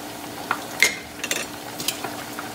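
Fish frying in a pan, a quiet steady sizzle broken by several sharp clinks and scrapes of a utensil against the pan, with no talk.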